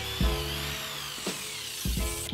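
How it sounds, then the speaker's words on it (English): A power drill with a 3/8 inch bit bores tuning machine holes through a wooden acoustic guitar headstock in three short bursts, each spinning up and cutting briefly before stopping, with no talking. "I'm going to go ahead and drill the holes for my tuning machines too right now."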